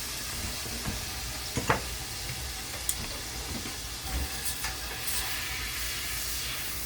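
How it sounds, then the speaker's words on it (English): Garlic sizzling in hot oil as a base for seafood, a steady close hiss with occasional pops and light stirring taps throughout. "I'm going to put a couple of teaspoons of garlic in there"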